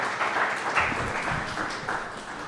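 An audience at a university seminar gives a speaker a moderate round of applause, many hands clapping steadily in a room for a few seconds.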